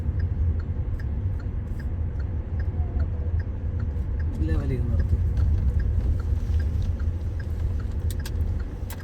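A car eased out from a house along a very narrow lane, its engine a steady low hum throughout with small ticks, under continuous close talk.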